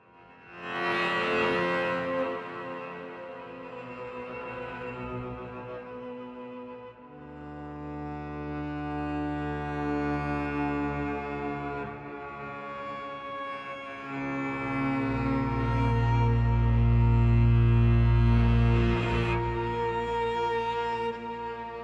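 A low, brassy foghorn tone from a sampled instrument swells and shifts through sharp, slightly detuned pitches, sustained and resonant, with no voices.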